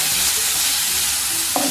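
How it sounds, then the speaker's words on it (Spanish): Onion frying in a pan gives a close, continuous sizzle, with a brief clink near the end. "Poco vamos a hacer que se cocine esta cebolla"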